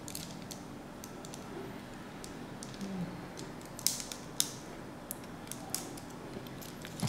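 Plastic parts of a Maketoys Quantron transforming robot toy snap shut in a string of small sharp clicks and creaks, close and fairly quiet, with gaps between them.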